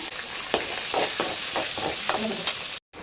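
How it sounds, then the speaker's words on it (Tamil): Chopped onions frying in a pan for a non-veg lunch, with a steady sizzle and repeated scraping stir strokes close by, cut by a brief silence near the end. "இப்போ அதில் கட் பண்ணி வச்சுட்டு வெங்காயம் சேர்த்துடலாம்."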